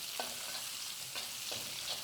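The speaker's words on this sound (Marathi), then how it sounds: "लसूण परतला कांदा घालायचा आणि कांदा असा गुलाबी रंगावर परतून घ्यायचा" Onions sizzle steadily in a hot pan, with a broad frying hiss and a few scraping stirs at regular intervals; no talking.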